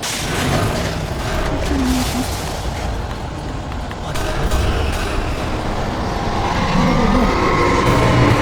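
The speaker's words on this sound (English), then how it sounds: "Just a train." Rumbling train noise in the video game Alan Wake, a dense continuous roar with rattling and a faint high squeal that stays loud throughout, building slightly toward the end.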